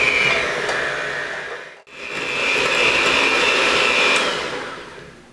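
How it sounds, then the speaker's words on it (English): Electric mixer whipping coconut cream, a loud steady whirring drone that cuts out briefly and then resumes, running alone without talk. "you want to spoon in just a spoonful at a time of the liquid while you have your mixer running"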